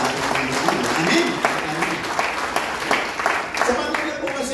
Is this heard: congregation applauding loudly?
yes